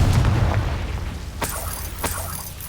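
Confringo fire spell exploding in the Hogwarts Legacy video game, a heavy low boom rolling out at the start, followed by two sharper bursting pops as the rumble fades.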